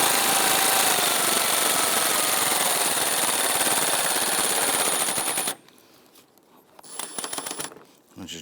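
Power tool rattling hard and continuously as it drives a bolt into a front bumper bracket on a 2008-2013 Infiniti G37, loud for about five seconds, then stopping, followed by a quieter short burst near the end.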